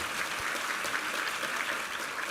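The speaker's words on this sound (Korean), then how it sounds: "우리 하나님께 감사와 영광의 박수 올려드리겠습니다." Steady applause from a church congregation at a Sunday morning worship service, dense even clapping that fills the room at a constant level with no voices on top.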